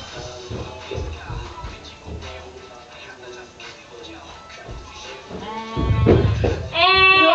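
Black and white sheep bleat loudly near the end, a couple of wavering nasal calls close by, after stretches of people talking and shuffling.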